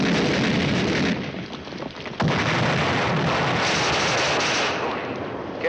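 Artillery barrage in a Korean War tank film, a dense continuous roar of booming blasts and rumbling fire that stays loud throughout, with one sharp crack breaking the din.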